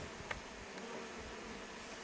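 Honey bees buzz in a low, continuous drone while being installed into a hive with a single queen, a steady close hum with faint individual wingbeats flickering through.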